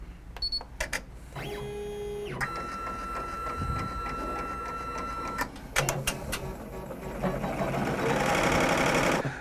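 An embroidery machine stitches the placement outline for a reverse appliqué on felt, a steady, close mechanical whirring with rhythmic needle chatter that runs for several seconds between brief starts and stops.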